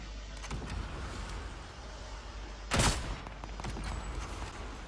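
A submachine gun fires a short burst in a video game, a loud, sharp blast standing out from steady background game noise; no talk is heard.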